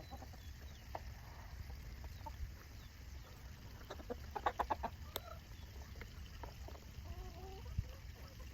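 Chickens, some missing tail feathers, cluck softly while being fed in a farmyard, with brief clusters of clucks against a low rumbling background.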